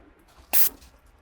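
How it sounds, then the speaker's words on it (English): A Dyno Power X6 paint sprayer laying whitewash onto brick gives one short, loud hiss of spray lasting about a fifth of a second against a quiet background. "a sprayer I haven't used before, just testing something out."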